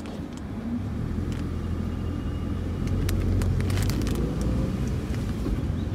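Renault Kwid automatic driving with the air conditioning running: a steady engine drone and road rumble inside the cabin, slightly louder midway, with no speech.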